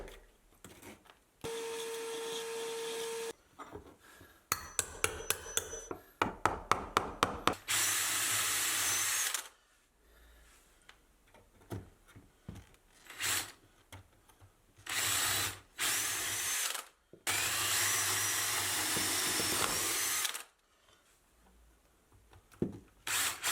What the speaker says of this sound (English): Then I remove a little bit more plasterboard so I can drill diagonal holes into the bottom section.